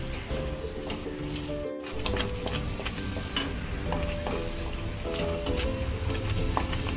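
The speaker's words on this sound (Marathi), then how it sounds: "आता आपण हे पूर्ण गूळ वितळेपर्यंत हलवून घेऊया" Jaggery being stirred in a pan until it melts while making puran, a steady scraping and soft sizzling stir close by, with a brief sharp knock partway through.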